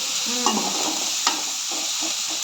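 Chilli powder and ginger-garlic paste fry in hot oil for soya chunks fried rice, a steady close hiss with a spoon scraping and stirring through it, two sharper taps of the utensil on the pan.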